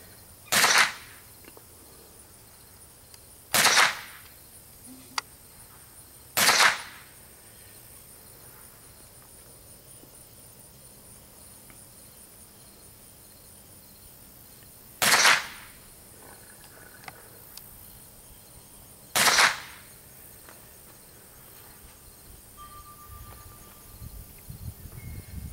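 Five sharp .22 gunshots ring out during target shooting practice, spaced irregularly over quiet outdoor background, each a crisp, fairly close crack with a short tail.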